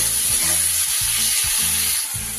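Chopped tomato hitting hot oil with frying onions for a Bengali vangor fish curry, a loud steady sizzle with soft rhythmic stirring scrapes underneath.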